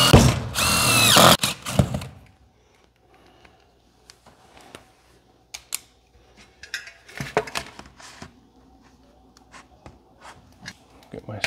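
A screw is driven into sheet metal chimney flashing, with a loud burst of whirring and grinding at the start, then sporadic clicks, scrapes and metallic handling noises close by.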